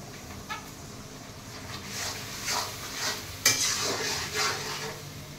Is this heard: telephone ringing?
no